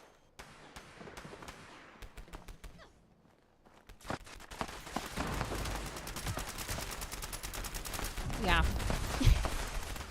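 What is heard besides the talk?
Radium Rifle gunfire in the video game Fallout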